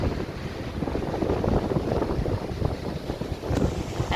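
Ocean surf on a stone beach at Salinas, Ecuador, a steady broadband wash of waves mixed with heavy wind buffeting the microphone, continuous and fairly loud with no voices.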